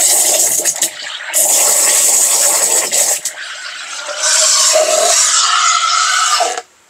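An espresso coffee machine heats water in loud hissing bursts of steam, several seconds each with brief quieter gaps, close by and without speech.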